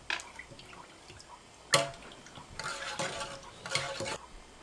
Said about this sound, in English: And we incorporate that into the pot and stir it